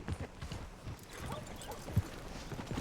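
Horse hooves clip-clop on the ground in the Red Dead Redemption 2 video game, a soft, steady run of close footfalls over quiet background ambience.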